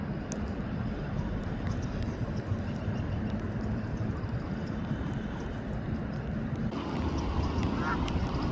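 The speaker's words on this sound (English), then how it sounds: "our little friend, the Canadian goose, who got rejected by the other two." A Canada goose honks at a pond over steady, rushing outdoor noise, the calls repeated and moderately close.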